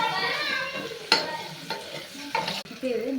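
Shallots, curry leaves and asafoetida frying in a pan for a peanut kadaiyal, a close, steady sizzle broken by a few sharp stirring scrapes and spatula knocks, with no talking.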